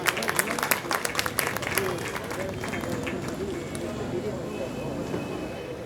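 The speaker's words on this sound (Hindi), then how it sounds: "भाई तालियों से मेहमानों का इस्तकबाल तो कीजिए।" An audience at the inauguration of an Urdu book fair claps in a dense burst that gradually thins out, with a murmur of voices underneath.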